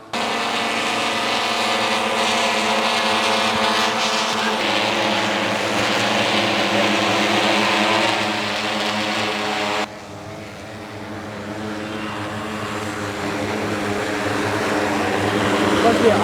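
A six-rotor agricultural drone flies while spraying water, its loud, steady rotor hum dominating before dropping off sharply and then swelling back, with a person talking over it.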